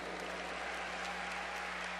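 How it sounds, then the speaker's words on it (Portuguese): Audience applause during a Catholic talk event at Canção Nova, a brief, soft and distant patter of clapping under a low steady hum. "A doutora Roberta Castro, uma salva de palmas para ela."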